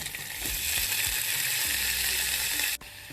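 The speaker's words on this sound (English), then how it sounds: "lightly fry it till it's smelling really good, which it is now" Food lightly frying with oregano in a pan, a steady close sizzle with a few soft utensil knocks, no talk, cutting off abruptly near the end.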